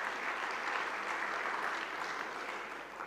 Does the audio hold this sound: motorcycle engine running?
no